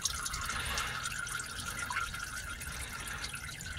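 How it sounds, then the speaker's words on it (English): Used engine oil drains from a 1999 Porsche Boxster 986 as a faint, steady trickle and patter of liquid running into a pan, continuous and quiet with no talk. "As you watch the last bits of oil drain out"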